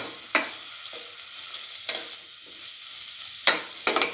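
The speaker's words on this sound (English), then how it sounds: "keep on sauteing" Tomato pieces sautéing with a mixture in a pan for an eggplant and cottage cheese stew: a soft, steady sizzle broken by a few sharp spatula scrapes, close and moderately quiet, with no voices.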